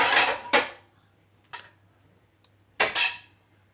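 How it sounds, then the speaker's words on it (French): A metal utensil clinks and scrapes against a dish while prying loose a slice of frangipane tart fresh from the oven, with a few sharp, close taps spaced out by quiet pauses. "Je vais essayer de vous décoller un morceau"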